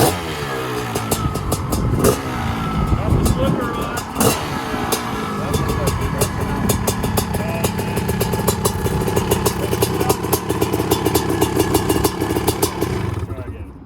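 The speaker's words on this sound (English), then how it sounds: "So CR500 is starting" A 2021 Honda CR500R motocross bike starts with a few sharp clattering hits, then settles into a loud, rough, close engine run that holds steady to the end.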